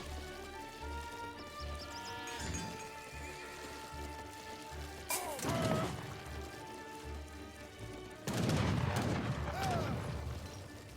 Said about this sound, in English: Does take a volley there with those Hussars.